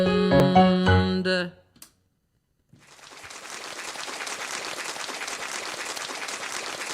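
A sung final note ends, a brief silence follows, and then an audience breaks into applause that swells into steady, sustained clapping at a live concert.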